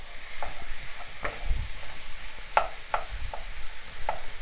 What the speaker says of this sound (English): Just want to stir it around, get these onions in.